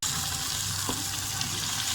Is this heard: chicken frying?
yes